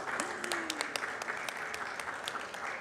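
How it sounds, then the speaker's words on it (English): Audience clapping for a speaker at a City Hall Nowruz celebration indoors, a moderate scattered round of applause, fairly faint, with a brief voice-like tone early on. "please, round of applause for Mariam."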